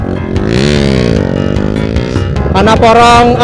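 An old motorcycle engine runs close and loud on a morning ride, its pitch rising and falling steadily as the revs change, climbing higher near the end.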